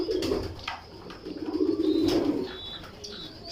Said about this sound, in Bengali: ওই যে নটটা ডাকতেছে, ওইটা আমার আহমদের কবুতর, কবুতরের বাচ্চা।